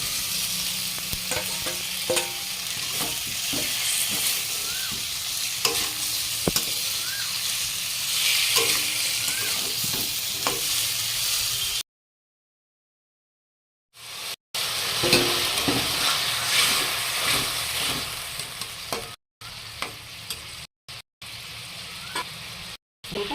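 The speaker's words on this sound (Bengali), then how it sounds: "এইবারে আলু আর মিষ্টি কুমড়ো ভাজা দিয়ে দেবো।" Fried potato and sweet pumpkin sizzle in a pan as a spoon stirs and scrapes through them, a steady close crackle with a short silent gap and a few cuts near the end.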